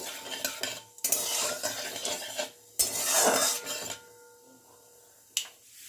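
Cumin seeds, a bay leaf and a dried red chili being stirred in a pan of hot oil, utensil scraping and clinking against the metal in several bursts with faint sizzling between, close by.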